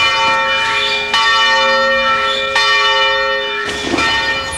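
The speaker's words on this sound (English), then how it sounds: "That bell rings at 5:15 every morning, which means that porters can start moving fish." Billingsgate Market's bell rings at 5:15 am with three loud, resonant strikes about 1.2 seconds apart, each leaving a long sustained ring, before a brief rustle near the end.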